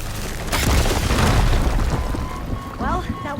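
A fire gleam explosion in the video game Horizon Forbidden West bursts into a loud, sustained rumbling boom that slowly tails off into a crackling fire, with a voice speaking over the end.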